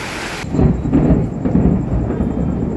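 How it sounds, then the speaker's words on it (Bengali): Heavy rain during a thunderstorm, with a loud close rumble of thunder breaking in after a brief moment and rolling on over the steady downpour. "সেই লেভেল বৃষ্টি দিয়েছে"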